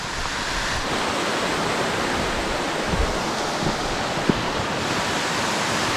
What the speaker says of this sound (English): You might not be able to hear me over the waterfall